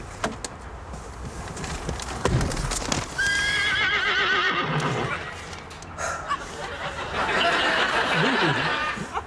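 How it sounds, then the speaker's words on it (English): A horse whinnies loudly, a shrill wavering neigh, amid hoof clops, snorts and more neighing close by. "There's a horse!"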